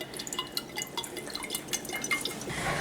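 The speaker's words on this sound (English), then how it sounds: "It's a little bit more messy when you try to dump it into a cup." Fresh young coconut water poured from an opened coconut into a cup, a close, steady run of dripping and splashing liquid with many small droplet plinks, building slightly louder toward the end as the cup fills.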